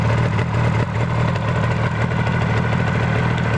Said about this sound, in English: you will always enjoy the sound of that two-stroke